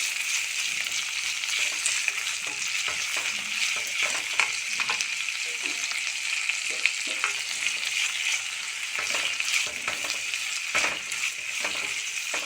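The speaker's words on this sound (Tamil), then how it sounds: "இந்த அளவுக்கு தக்காளி ஓரளவுக்கு வதங்கியிருக்கு" Tomatoes sautéing in a pan with salt for a vegetable chutney to serve with millet dosa. A steady, close sizzle and frying hiss fill the whole clip, broken by frequent stirring scrapes and clicks, with no talk.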